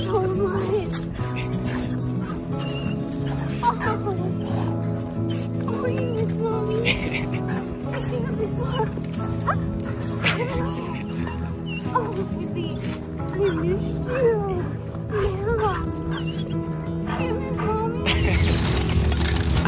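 A dog whimpers and yips excitedly with occasional barks as it is reunited with its owner after years apart, heard over background music and people talking throughout.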